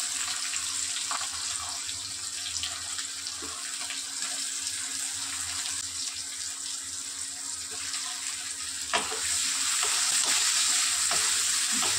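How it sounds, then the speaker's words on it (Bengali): Chopped onion frying in hot mustard oil with whole cloves, cardamom and cinnamon, a steady soft sizzle running throughout, faint and close, with a brief clatter near the end as the pan brightens. "পেঁয়াজটা একটু ভেজে নিই"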